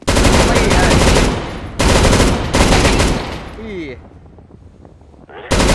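Heavy gun fire in the game CS:GO, loud sustained bursts of automatic shots with brief gaps, a ringing metallic tail between volleys and another burst cutting in at the end.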